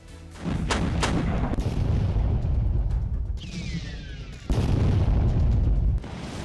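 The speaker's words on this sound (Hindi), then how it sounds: "यूक्रेन में रूस के विध्वंसक बम तबाही मचा रहे हैं।" Explosions from Russian attacks in Ukraine: loud, heavy booms and bursts, one after another, with a whistling descending tone between blasts.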